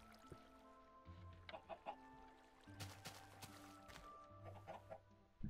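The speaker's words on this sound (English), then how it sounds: "These chickens are producing eggs good." Chickens clucking in a Minecraft-style SMP video game, a series of short, close clucks in small bursts over a steady tonal background hum.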